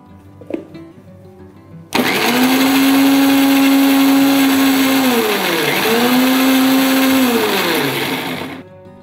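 A kitchen mixer grinder starts abruptly after a moment of quiet and runs loud and steady for about seven seconds, its motor whine dipping briefly once as the load shifts, then stops, with no voices.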